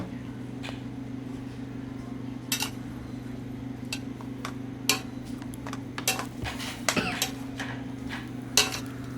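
A metal spoon scrapes and clinks against a pot while stirring spices for mutton dalcha, now and then over a steady low hum, with irregular light taps spread through the stretch.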